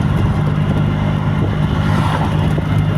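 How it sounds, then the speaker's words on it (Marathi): Small auto rickshaw engine droning steadily from inside the cab while riding through town on a pilgrimage trip to Rameshwaram, a continuous low hum with road noise and no pauses. "आता आम्ही बसलो रिक्षामध्ये"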